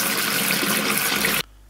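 Warm water running steadily from a bathroom tap into a basin, a close, dense gushing flow that stops abruptly near the end.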